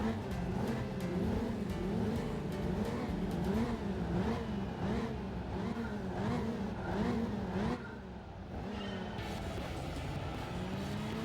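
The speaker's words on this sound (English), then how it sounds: "why does this rev so far? Why do you go so far past your red line?" A car engine in Gran Turismo 4 revs hard and holds past its redline, a loud, steady whine that rises and falls in repeated sweeps. The pitch drops briefly near the end.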